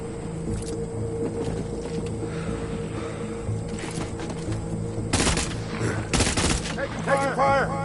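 Bursts of gunfire in the video game Death Stranding, loud sharp volleys cutting through a steady droning background, with a few clustered shots near the end.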